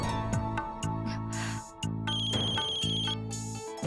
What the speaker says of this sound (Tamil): அது யாரோ ஃபோன் பண்ணிக்கிட்டே இருக்காங்க